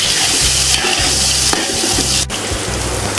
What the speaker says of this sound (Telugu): కొంచెం ఉల్లిపాయలు వేగుతున్నాయన్నప్పుడు